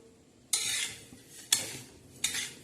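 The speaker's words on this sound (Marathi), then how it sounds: "तर आता ही खुरसणी आपण हळूहळू अशी छान हलवणार आहोत." Khursani chillies roasting dry on a tawa over low heat, stirred in three separate bursts of crisp rustling and scraping about a second apart, close by and fairly quiet, with near silence between strokes.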